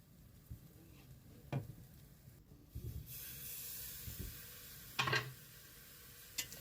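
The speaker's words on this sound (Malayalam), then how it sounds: "നമുക്ക് നല്ലപോലെ ഇളക്കാം." Spices and tomato stirred in a pan for a beef bone curry, a faint hissing sizzle with soft scrapes of a spoon at intervals and a brief louder burst of steam, no talking.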